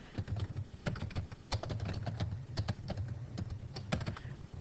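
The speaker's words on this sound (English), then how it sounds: "I'm just going to start typing in the contact" Keys clatter on a computer keyboard as a contact name is typed into an email share field, with rapid, uneven clicks and a few sharper key strikes, close and fairly quiet.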